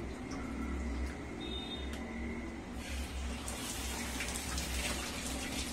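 Water flows under pressure from a Kent Maxx water purifier, a continuous splashing gush that grows fuller partway through, with faint background sounds.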